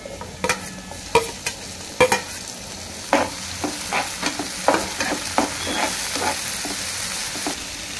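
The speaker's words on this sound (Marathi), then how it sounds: "हा कांदा आता परतून नरम झालाय। आता ह्याच्यामध्ये हा सगळा टोमॅटो घालूया।" Chopped onion and tomato sautéing in a pan for chicken pav, a soft steady sizzle broken by irregular scraping strokes of a spoon stirring, close and moderately quiet with no speech.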